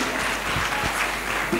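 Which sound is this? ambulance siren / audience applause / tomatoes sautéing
audience applause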